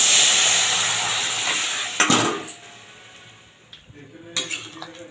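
Vegetables tipped into a pan of hot spice tempering for a light curry give a hissing sizzle that slowly fades, with a few clanks of a utensil against the pan.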